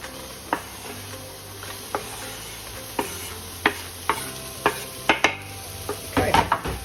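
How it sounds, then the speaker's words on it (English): Onions dropped into a pan of hot oil for spaghetti bolognese, giving a soft steady sizzle broken by a series of sharp clicks and clatters from a spoon against the pan, with busier scraping near the end. "a little bit of oil. Let's drop those onions straight into the pan"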